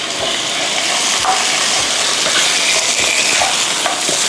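Pork ribs stir-fried with chili and garlic in a hot pan give a steady, loud sizzle with scraping and stirring clatters throughout, no voices.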